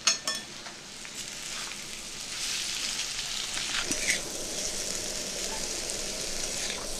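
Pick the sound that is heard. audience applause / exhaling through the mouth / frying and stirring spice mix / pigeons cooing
frying and stirring spice mix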